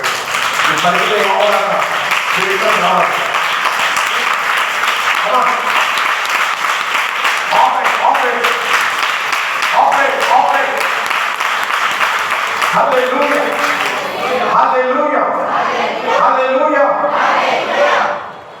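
A congregation at a Friday praise-and-prayer church service claps loudly and continuously for nearly twenty seconds. Cheering and shouting voices are mixed in, and the applause stays dense throughout before cutting off abruptly at the end.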